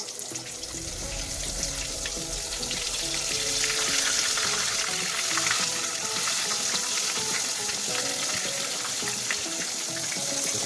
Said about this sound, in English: I'm very, very curious on how this fish will be fried.